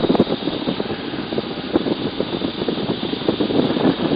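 A small propeller airplane drones loud and close in flight, a steady rough engine buzz with rapid pulsing beats that continues unbroken.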